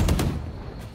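A single close, loud gunshot from the tactical shooter game Valorant, a sharp crack at the start that decays quickly into a short tail, with no talk over it.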